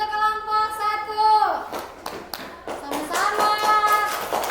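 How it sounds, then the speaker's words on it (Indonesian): A school class claps together in a brief burst of applause, fading out and then picking up again alongside voices and tonal sounds. "tepuk tangan dulu untuk kelompok 1"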